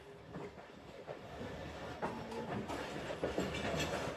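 A passenger train pulls out of Kala Khatai station on the Lahore–Narowal branch line in Pakistan, a low rolling rumble with soft clicking wheel beats that builds gradually as it gathers speed.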